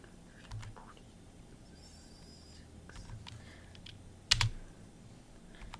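Soft, scattered clicks of a computer keyboard as a Minecraft command is typed, quiet and irregular, ending with a sharper louder keystroke near the end.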